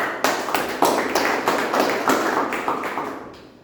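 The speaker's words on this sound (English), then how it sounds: "A big round of applause." Members of a Toastmasters club meeting applaud in a short burst of close, dense claps with a few sharper hits, tapering off after about three seconds.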